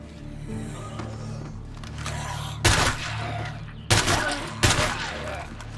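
Gunfire in State of Decay 2: three sharp, loud shots spaced about a second apart cut through a steady mechanical hum and low background noise, with a faint voice in the mix.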